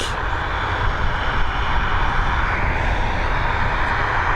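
ATR turboprop airplane at Dublin Airport, a loud, steady roar of engines held throughout at close range with no talking.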